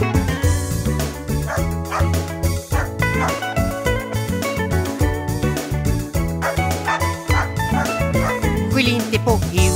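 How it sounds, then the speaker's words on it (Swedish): Dog barks and yips ring out within a full, busy Swedish pop song about dogs, sitting inside the steady music mix rather than alone. "Skäll inte på Hugo"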